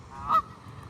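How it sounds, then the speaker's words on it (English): A single Canada goose honk rings out clearly over low background noise, brief and fairly close. "Look at these beautiful Canadian geese."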